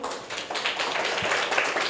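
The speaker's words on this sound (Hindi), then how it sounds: "वेरी गुड, ताली बजा दो।" Children in a government school classroom clap together in a brief, dense burst of scattered claps that fills the room.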